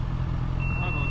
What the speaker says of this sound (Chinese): 我不知道怎么设定把那个哔哔声给取消。